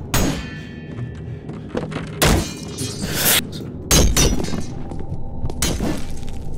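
Glass bottles thrown and shattering in a Roblox game: several sharp, loud crashes with bright breaking bursts, spaced irregularly over a low background rumble.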